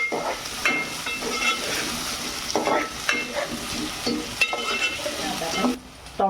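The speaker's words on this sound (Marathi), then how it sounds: "कांदा आपण व्यवस्थित आता शिजवून घेऊ" Onion fries in a pan with garlic and ginger for a mixed sprouts curry. The sizzle is constant and moderate, punctuated by repeated spatula scrapes and stirring knocks throughout.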